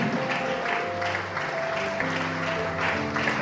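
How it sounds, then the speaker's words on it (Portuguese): A church congregation claps loudly and continuously during a Pentecostal service, the dense applause carried over sustained instrumental chords. "Aplaudam bem forte a Deus Todo-Poderoso."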